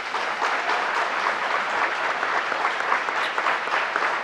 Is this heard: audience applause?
yes